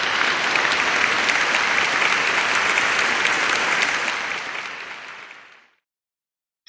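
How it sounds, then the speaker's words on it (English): A canned applause sound effect, a dense and even burst of crowd clapping that holds steady for several seconds, then fades out and stops abruptly. "I'm going to applaud your entrance."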